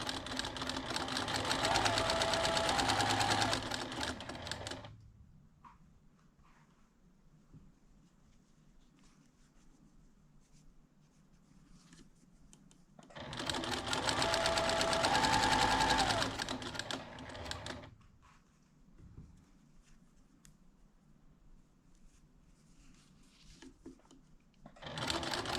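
A sewing machine stitches a Thanksgiving table runner in two separate bursts of steady whirring, close and loud, with quieter fabric handling and faint room noise in the pauses between.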